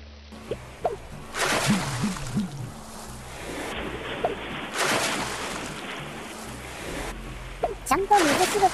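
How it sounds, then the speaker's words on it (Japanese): In Animal Crossing, three characters release ocean sunfish at once into the sea, sending up several soft watery splashes and sloshes over a faint background, with a voice speaking in between. "ちゃんと水しぶきが増えた"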